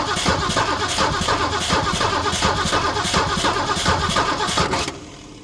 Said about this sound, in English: now let me turn the key, see what we get.